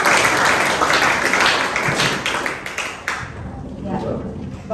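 Audience applause in a classroom, loud clapping from a group that fades toward the end, with voices audible under it.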